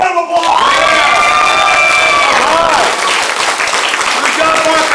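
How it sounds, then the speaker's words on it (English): A family crowd at a martial arts belt ceremony in Mount Dora, Florida claps and cheers, with children shouting and whooping over steady loud applause throughout. "So let's give him another round of applause!"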